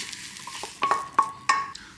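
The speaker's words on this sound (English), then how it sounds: "Scrambling it in the pan instead of in a bowl beforehand" Eggs scrambled directly in a frying pan, a low sizzle running throughout with a few sharp scrapes and taps of a utensil against the pan about every half second, close and fairly quiet.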